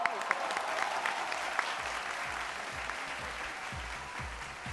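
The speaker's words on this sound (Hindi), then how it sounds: "तो please welcome mister Shahrukh Khan and Kajol on the stage. जोरदार तालियों के साथ।" A crowd at a television awards show claps to welcome Shah Rukh Khan and Kajol onto the stage; the applause is sustained but fairly soft and distant, with faint voices murmuring underneath.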